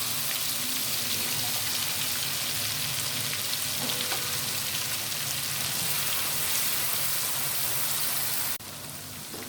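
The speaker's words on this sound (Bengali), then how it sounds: "এখন ওই মিশ্রণটা বা মশলার যে মিশ্রণ সেটা এখন আমরা এই তেলের মধ্যে ছেড়ে দিলাম" Spice mixture sizzles and crackles steadily in hot oil while a mango pickle is being cooked, a loud hissing spatter that holds nearly unchanged before dropping slightly at the very end, with no one speaking.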